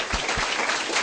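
A short burst of audience clapping, dense and steady, filling the moment at moderate loudness without voices.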